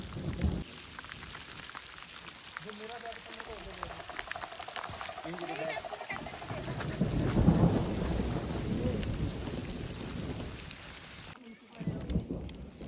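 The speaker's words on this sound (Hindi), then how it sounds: "और बारिश लगातार तेज़ होती जा रही है।" Heavy rain pours steadily on the mountain trail of the Churdhar Peak trek, a dense close hiss throughout with low rumbles. A person speaks under it for a short while.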